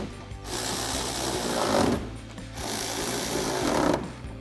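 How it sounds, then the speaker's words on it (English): An 8 millimeter socket on a power tool buzzes in two steady bursts of about one and a half seconds each while tightening the bolts on AlphaRex LED projector headlights for a 2019-2023 RAM 1500, close and loud. "we can grab our 8 millimeter socket to tighten these all down."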